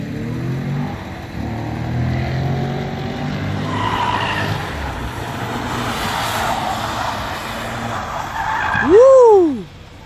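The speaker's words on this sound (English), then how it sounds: "Pull the e-brake, pull the e-brake." A car on the Summit Point raceway skids as the e-brake is pulled. Engine noise rumbles throughout, then a loud, brief tire squeal sweeps up and down near the end.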